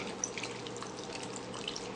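V8 vegetable juice is poured from a container into a pot of vegetable beef soup, giving a soft, continuous liquid gush and splash at low volume, with no speech.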